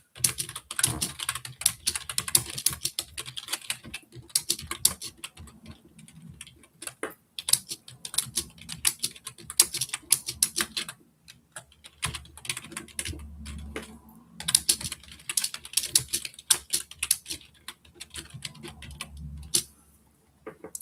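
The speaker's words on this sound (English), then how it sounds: "typing away" Typing on a computer keyboard during a live stream, with rapid irregular clicking bursts and short pauses, close and fairly loud, alone without speech.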